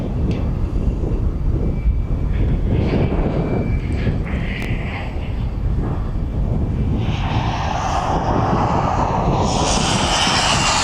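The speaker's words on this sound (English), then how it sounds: "So that is the DHL 777" A DHL Boeing 777 cargo jet at East Midlands Airport roars steadily nearby, its deep rumbling engine noise turning into a rising hiss toward the end.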